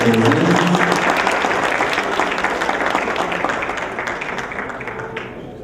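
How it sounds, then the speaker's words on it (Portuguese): Loud audience applause, many hands clapping at once, holding steady before gradually fading out toward the end. "Uma salva de palmas aos nossos assessores e a todos nós aqui presentes."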